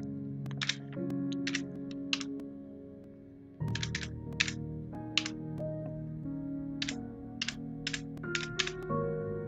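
Someone types on a computer keyboard while entering a multiplayer server address, producing short bursts of quick, close clicks separated by pauses over a steady background of game music.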